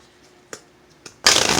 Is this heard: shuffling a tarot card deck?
yes